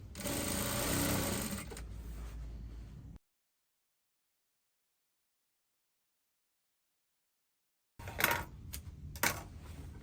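A sewing machine stitches a dress seam with a half inch seam allowance, running in a steady loud burst at first, then a long silence, then shorter stop-start runs near the end.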